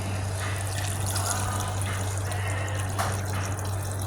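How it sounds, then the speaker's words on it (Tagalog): Water pours steadily into a cooking pot for salona, a continuous close trickle over a low steady hum, with no talking. "Lagyan natin ng tubig."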